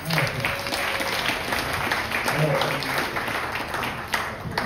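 Audience applause at a conference in Cayenne, a continuous dense clapping from a crowd with some voices mixed in, steady and fairly loud throughout.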